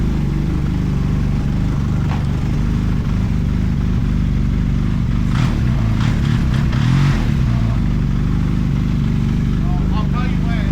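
An old snowmobile that is reluctant to start idles loud and close with a rough steady drone, swelling briefly in the middle as the throttle is bumped, with people talking over it.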